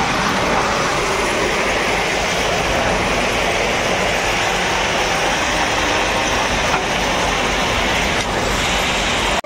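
A stone-laden goods train rumbles past near the Nashipur rail bridge as a dense, continuous roar of wheels and wagons that stays loud and unbroken throughout.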